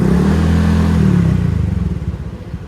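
A Honda Click scooter with a Kenochi stainless exhaust pipe and a 1.2 clutch spring, revving loud and close, then the engine note settling into a lower, choppier idle pulse.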